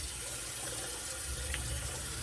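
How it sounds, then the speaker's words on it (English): Water runs steadily from a bathroom sink as it empties during a 1970s-style shaving session, a continuous close rushing and gurgling wash with no voices. "let's see if I can actually empty the sink"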